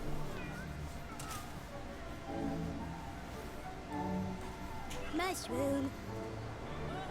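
Pet cats meow repeatedly in a room, several short rising cries close by, mixed in with someone talking throughout.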